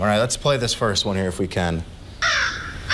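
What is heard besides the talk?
crow cawing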